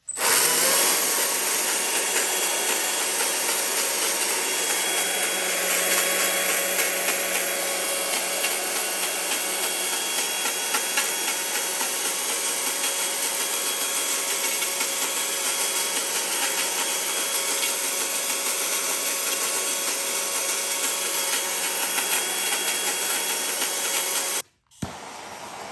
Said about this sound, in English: you're just taking the chainsaw and you're just making a bunch of quick hit light lines in just a weird sporadic pattern